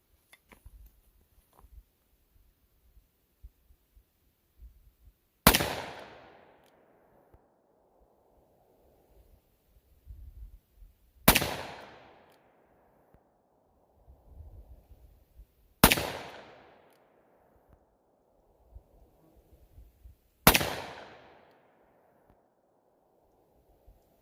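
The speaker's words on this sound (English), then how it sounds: "I'll empty the 7 rounds here in single action mode" A Smith & Wesson 686 Plus Deluxe 6-inch revolver fires soft point rounds in single action mode, four sharp loud shots spaced several seconds apart, each with a short decaying echo and faint handling noises between.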